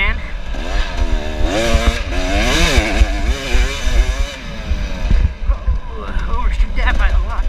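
A two-stroke or four-stroke motocross dirt bike at a WNYOA race round, its engine revving hard and continuously with rising and falling pitch, loud and close, while a voice talks over it.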